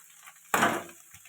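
Flattened rice (chire) being fried in a pan for chire pulao with fried egg and potato, heard as one sharp sizzling burst as the ingredients hit the hot pan, followed by a faint clatter.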